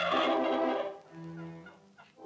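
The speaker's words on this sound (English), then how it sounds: "For the turkeys, this is a most upsetting time of year." A loud Pembrokeshire turkey gobble ringing out at the start, followed by softer, scattered gobbles and clucks from the flock as it fades.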